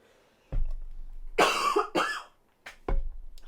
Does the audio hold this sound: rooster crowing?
no